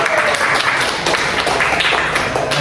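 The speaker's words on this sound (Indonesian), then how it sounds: "Boleh tepuk tangan dong" A group of classmates applauds during a school group counseling session, steady close clapping from many hands throughout, fairly loud with no break.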